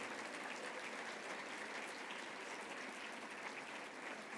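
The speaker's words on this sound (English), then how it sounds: "can we give Catalina and the founding group a round of applause" An audience at a benefit breakfast bursts into sustained applause, a dense, even wash of many hands clapping that holds steady for several seconds without any talk.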